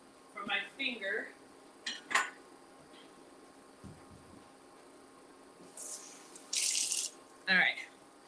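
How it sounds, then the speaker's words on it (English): A kitchen tap briefly runs water into a small cup, with dishes and utensils clinking nearby and a person talking in short bursts around it. "I'm just going to get a little cup of water for my finger."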